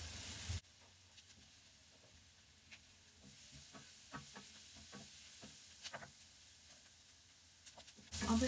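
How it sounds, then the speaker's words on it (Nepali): Boiled potatoes fry in a pan for an egg and potato curry, a quiet steady sizzle with small crackles and a few stirring knocks, heard close. "अब यो उसिनेको आलुलाई पनि एकैछिन फ्राई गर्नुपर्छ"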